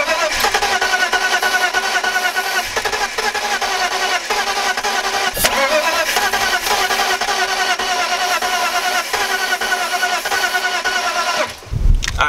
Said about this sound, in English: try to start up the car and we'll see how it sounds